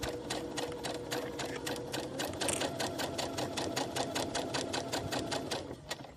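A sewing machine stitches slowly around a fabric coffee cup coaster made from scraps, giving a steady, rapid mechanical chatter of needle strokes that runs loud and close throughout, with no talking.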